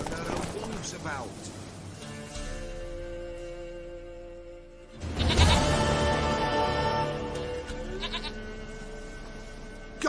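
A goat bleats in The Witcher 3, its wavering animal call heard amid game sounds, with a louder burst around midway and dialogue nearby.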